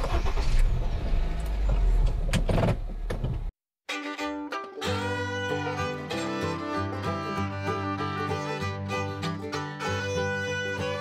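A 2019 Honda Jazz with a 1.2-litre naturally aspirated four-cylinder petrol engine and CVT drives with a steady engine and road roar for about three seconds, then falls silent before music takes over.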